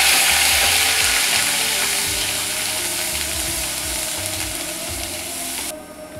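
Onion paste sizzles and fries steadily in a hot pan for a Bengali katla fish korma, with a dense crackle, occasional stirring scrapes, and no talking.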